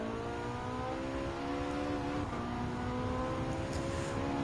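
A 1971 Ferrari Dino 246 GT racing in Gran Turismo 7, its engine a steady, close, high-revving drone with rising harmonic tones that hold loud throughout.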